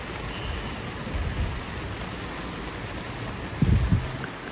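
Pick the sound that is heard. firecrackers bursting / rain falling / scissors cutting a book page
rain falling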